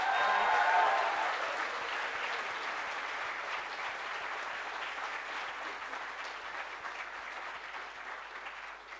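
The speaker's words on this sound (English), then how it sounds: "give a big round of applause to Taral, Ruchi." An audience at an orientation programme in Ahmedabad applauds, a dense, steady round of clapping that begins loud and gradually softens over several seconds.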